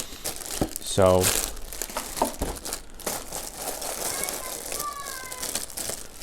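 Plastic bags holding the original parts trees of a Tamiya Dyna Blaster RC kit crinkle and rustle close by, loud and continuous, while a person talks over the handling.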